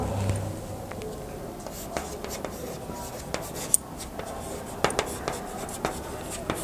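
An accounting entry being written by hand on paper in a class on re-issue of forfeited shares: close scratchy pen strokes with occasional sharper taps, steady and unaccompanied by speech.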